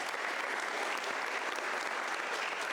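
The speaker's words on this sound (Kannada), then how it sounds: "ಚಪ್ಪಾಳೆ ಅವನಿಗೆ." A crowd at an army recruitment rally motivation class claps steadily for a recruit, dense and continuous applause filling the space without pause.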